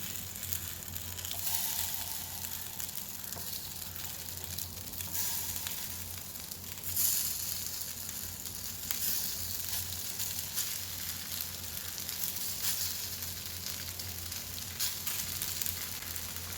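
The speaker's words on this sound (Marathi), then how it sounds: "आता आपण फ्राय करायला ठेवू" A crispy fasting snack deep frying in groundnut oil, a steady continuous sizzle and bubbling that holds evenly throughout, with no voices.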